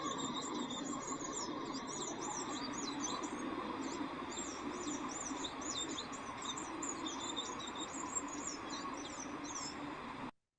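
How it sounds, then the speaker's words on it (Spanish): A bright, high-pitched song of a blue-gray tanager (Thraupis episcopus), rapid squeaky, twittering phrases repeating continuously over a steady background hiss of ambient noise. "El siguiente es de Traupes episcopus,"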